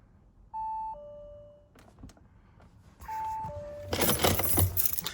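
Keys jangle loudly and close in a busy metallic rustle near the end, preceded by two pairs of electronic chime tones and soft handling clicks.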